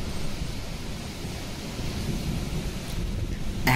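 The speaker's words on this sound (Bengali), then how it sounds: "সেদিনের ওই কালবৈশাখীটা এই মৌসুমের সব থেকে ভয়ঙ্কর কালবৈশাখী ছিল" A violent Kalbaishakhi nor'wester storm roars as a steady, broad rush of wind and rain close to the microphone, with a couple of sharp crackles near the end.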